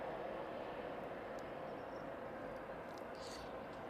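A Cessna light aircraft in RVL livery taxis far off at East Midlands airport, a low, steady engine drone holding evenly through the whole stretch with no one speaking.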